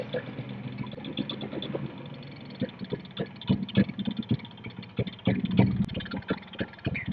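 A Yamaha RX100 motorcycle idles just after starting with an uneven, pulsing low thump, while people talk nearby.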